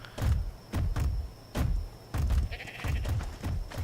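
Sheep in the video game Ark bleat repeatedly, about half a dozen loud, close calls in an uneven rhythm, with a steady faint electronic tone underneath.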